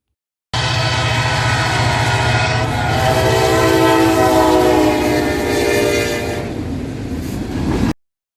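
A Kansas City Southern freight train led by four GP40-3 locomotives passes close by, its horn sounding in a loud sustained chord over the rumble of diesel engines and wheels before it cuts off.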